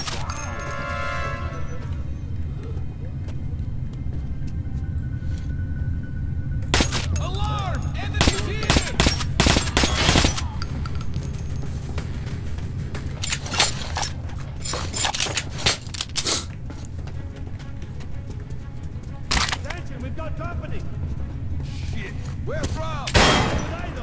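Gunfire breaks out in Metro Last Light in sharp, clustered bursts and single shots, mixed with mechanical clatter over a steady game background.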